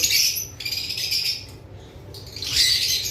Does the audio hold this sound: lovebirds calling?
yes